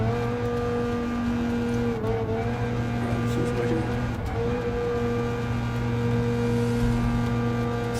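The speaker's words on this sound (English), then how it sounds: "Could you hear me over the engine noise while I was driving around?" Racing video game car circling the Nürburgring, its engine droning steadily and loudly at a constant pitch throughout, with faint tyre noise beneath.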